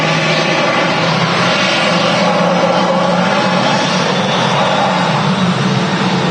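An Atlas Air Boeing 747 at Manchester Airport sends out a loud, dense, sustained engine roar that stays powerful and even from start to finish, with no voices over it.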